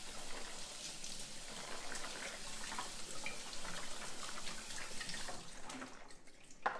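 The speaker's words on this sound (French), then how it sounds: "Je vais les rincer à l'eau froide." Cold water rinsing boiled salad ingredients in a colander: a steady, moderately quiet rush of tap water that runs for several seconds and then cuts off near the end.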